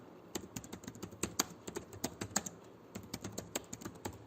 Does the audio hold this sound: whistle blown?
no